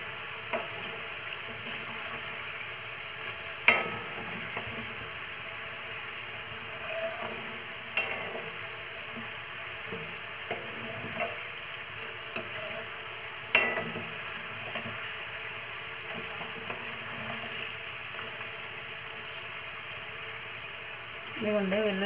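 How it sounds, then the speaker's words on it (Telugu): Garlic cloves fry in an oil tempering for tomato chutney, a steady moderate sizzle with occasional stirring clinks against the pan, and a voice talking intermittently over it. "తాలింపు అయితే బాగా వేగాలండి, లేకపోతే బూజు పట్టేస్తుంది పచ్చడి."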